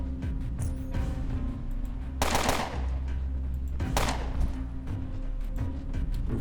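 Bursts of gunfire ring out in the Underrail video game, with two loud, sharp volleys separated by a few seconds over a steady low background hum.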